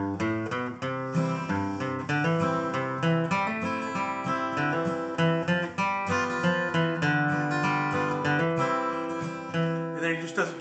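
A stringed instrument, likely a bluegrass guitar, plays the first part of the bluegrass tune Under the Double Eagle as a beginner arrangement, a steady stream of bright picked notes and strums in a brisk even rhythm, close and alone.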